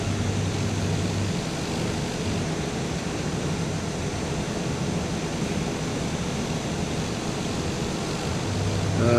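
A light aircraft taxis to runway 21, its engine and propeller making a loud, steady droning roar that fills the whole stretch without pause.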